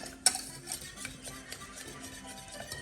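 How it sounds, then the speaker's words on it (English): A spoon stirs crab soufflé mixture with a pinch of cayenne in a bowl, giving soft repeated scrapes and light clinks against the bowl after one sharp knock at the start, close and fairly quiet. "Before we add the cheese, I'm just going to mix this in."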